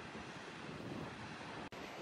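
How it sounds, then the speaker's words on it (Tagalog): Strong sea waves roll in on Gorlestone seafront at Great Yarmouth, a steady, dense roar mixed with wind buffeting the microphone, with one brief dropout near the end. "Lakas ng alon, oh."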